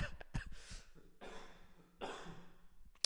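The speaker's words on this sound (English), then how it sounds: "See that cough?" Several harsh coughs burst out one after another, close and fairly loud, with brief breathy pauses between them.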